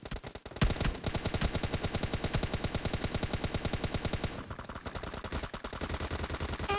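Rapid automatic gunfire rattles in the mobile shooter PUBG Mobile Lite, a dense continuous burst of shots with a brief pause before firing resumes.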